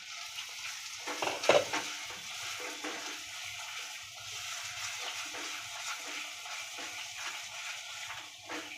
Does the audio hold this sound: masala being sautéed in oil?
yes